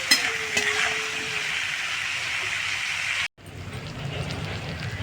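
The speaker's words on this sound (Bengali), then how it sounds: "ভালো করে আমি এটাকে একটু ঢাকা দিয়ে কম আঁচের মধ্যে আমি একটু ভালো করে ভেজে নেব" Yardlong beans with salt and turmeric fry under a lid on low heat, giving a steady, even sizzle that cuts off abruptly before resuming a little duller.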